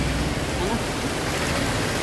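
Steady rain pours down while people shelter outdoors, a dense, even hiss that fills the whole clip without breaks, with faint talk underneath.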